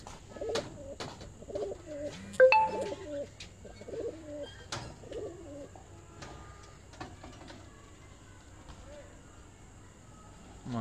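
A shy pigeon coos on a rooftop loft, soft low coos repeating in short bursts among faint chirps and a steady background hum, with a voice now and then.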